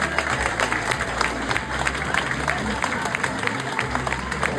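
An audience at a public meeting in Mazamet claps steadily, a dense, sustained wash of applause from a crowded room.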